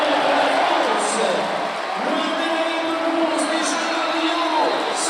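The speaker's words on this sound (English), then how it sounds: "Gets a massive round of applause, Marais." A large crowd at the 2018 Paris Grand Slam judo event roars with cheering and applause for French judoka Cyril Marais, a loud, sustained arena wash with whistles and shouts cutting through.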